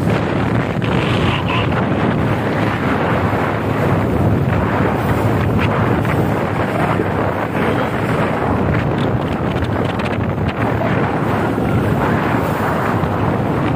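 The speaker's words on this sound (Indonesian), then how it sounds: "Ini speedboat." A speedboat roars along the Musi river in Palembang, its engine and rushing water merging with heavy wind buffeting the microphone, loud and continuous from start to finish.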